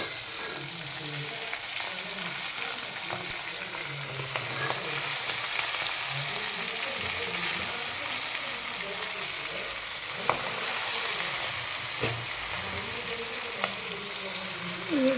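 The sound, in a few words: fenugreek leaves (methi) frying in a pan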